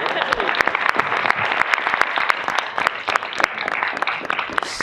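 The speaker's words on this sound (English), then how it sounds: "Can I get applause for that?" A school board meeting audience breaks into applause, a close stretch of many hands clapping with distinct sharp individual claps and a murmur of voices underneath.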